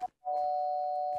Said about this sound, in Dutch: dan moet ik aanbellen